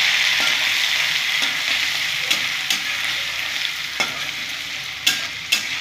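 Cardamom, cinnamon, cloves and ginger paste fry with a steady loud sizzle in a pan, broken by a few sharp spoon scrapes and taps as the spices are stirred, close up with no talking.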